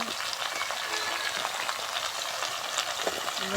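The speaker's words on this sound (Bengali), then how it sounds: "সুন্দর করে নাড়াচাড়া দিয়ে নিতে হবে" Ground ginger-garlic spice paste and vegetables fry steadily in a pan, a continuous close sizzle with faint scraping of a stirring spoon running throughout.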